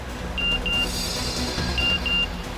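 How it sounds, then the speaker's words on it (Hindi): Phone message notification on a crime drama set gives four short high beeps in two pairs, clear over a quiet room tone. "डॉक्टर साक्षी का मैसेज आ गया।"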